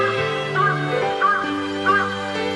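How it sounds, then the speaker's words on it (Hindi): A crow-like bird in a cartoon gives three harsh caws, spaced about half a second apart, over a continuous musical background. "ये चिड़िया की आवाज कानों में नहीं चुभती?"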